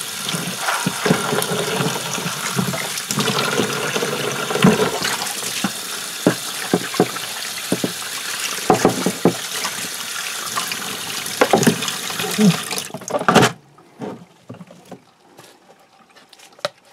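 Water running from a tap to rinse a bicycle chain in a container: steady, loud splashing and pouring with clinks of metal, then cutting off into quiet handling near the end.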